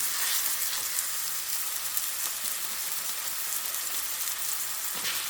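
Turkey smash burger patties fry in a pan with a steady, bright sizzle that holds close and even throughout, alone without talk.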